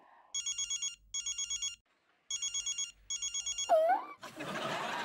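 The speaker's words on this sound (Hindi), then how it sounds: "रिंग जा रही है सर।" A telephone ringing in a Hindi TV comedy, four clear electronic ring bursts in a regular pattern with short pauses between, followed by a brief swoop and a burst of noise at the end.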